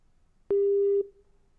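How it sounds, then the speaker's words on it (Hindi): A telephone busy tone after a call disconnects: one steady electronic beep lasting about half a second, loud and clean, then silence. "माफ़ी चाहते हैं, फ़ोन कट गया।"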